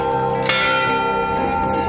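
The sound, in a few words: temple bell ringing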